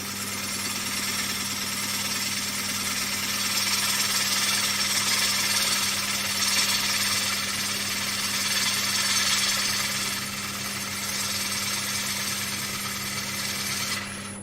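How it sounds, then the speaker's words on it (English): Wood lathe turning a large platter, the tool bevel pressed too hard so the cut chatters: a steady, close grinding buzz with a constant low hum running throughout. "can hear that vibration now. I've just got the bevel too hard on there."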